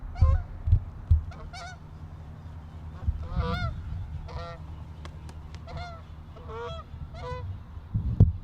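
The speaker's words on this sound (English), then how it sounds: "The geese fly over every morning." Geese honk repeatedly overhead, a scattered chorus of calls over a low rumbling background, some honks close and loud, others fainter.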